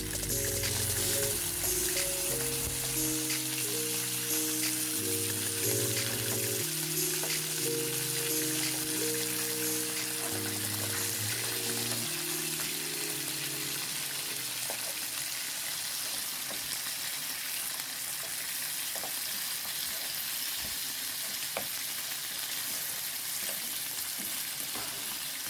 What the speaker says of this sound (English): Leave your pot hot, leave it on medium high, and this will fry for about 10 to 15 minutes.